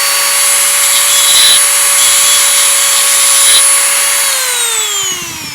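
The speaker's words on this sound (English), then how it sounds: "once I grind down that edge, it's going to be still longer than the other earring" A Dremel rotary tool grinds down the sharp edge of a spoon-handle earring, a steady high whine running continuously and close, with a slight pitch drop near the end as the tool slows.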